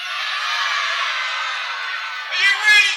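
Wrestling crowd at a Royal Rumble main event cheering and whooping in a steady, loud roar that swells with brighter shouts near the end.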